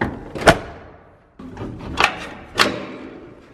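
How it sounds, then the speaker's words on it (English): Three dull thuds spaced about a second apart, close and fairly loud, as the hood of a Mustang coupe is popped open, a metal latch and panel being worked. "pop the hood on it"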